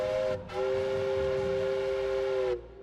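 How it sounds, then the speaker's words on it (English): A factory steam whistle sounds a loud, steady blast that stops briefly just after it starts, then holds for about two seconds before cutting off. "When the factory whistle blew on November 3, 1885"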